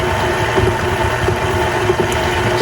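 An electric mixer beats sugary pecan pie filling with a steady, close, continuous motor whir and a low churning hum, with no talking.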